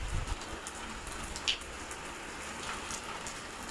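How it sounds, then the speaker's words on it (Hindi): Steady heavy rain pours down without pause, a dense hiss of drops hitting surfaces, with no voices. "पहले हल्की हल्की बारिश आ रही थी, अब तेज़ हो गई है"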